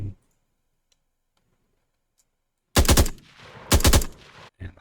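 Weapon fire in a third-person shooter game under development bursts out twice in quick, loud rattling volleys, followed by a brief clipped shot near the end.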